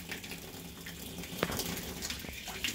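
Water gushes steadily from an aqua bag being emptied, a continuous rushing flow with a few sharp splashes and knocks on top.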